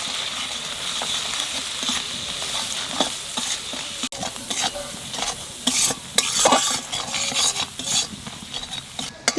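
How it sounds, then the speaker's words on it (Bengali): Spice paste of cumin, Kashmiri chilli, salt and turmeric fries loudly for a prawn malai curry, with a continuous hiss broken by frequent clattering stirring strokes of a spoon against the pan. "মশলা কষানো হয়ে গেছে।"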